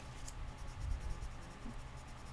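A Copic marker colors in a small paper owl beak with soft, steady scratchy strokes. It is quiet and close, with no talking.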